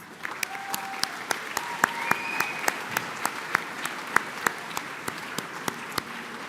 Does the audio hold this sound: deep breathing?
no